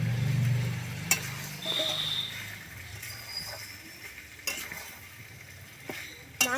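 Chicken with fried potatoes being sautéed in a pan for a chicken curry, a soft low sizzle with scattered scraping and utensil taps, fairly quiet and without talk.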